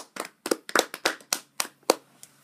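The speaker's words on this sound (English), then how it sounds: "Give him a round of applause." A handful of people clap for a guest on a live radio show, about ten sharp, separate claps spaced unevenly over two seconds, close and dry, with no talking.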